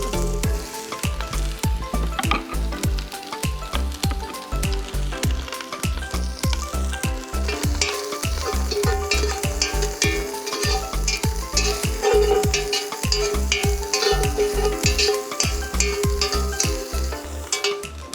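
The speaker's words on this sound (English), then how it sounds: "So we've cooked our smoked sausage for about 2 minutes." Smoked sausage fries in a pan with a loud, continuous sizzle, broken by frequent sharp clacks and scrapes as it is stirred and turned.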